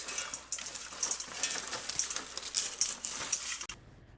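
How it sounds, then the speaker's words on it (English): Tap water pours into a colander in a close, steady splashing rush that cuts off abruptly near the end, with no talk. "I'm just gonna fill this colander up again."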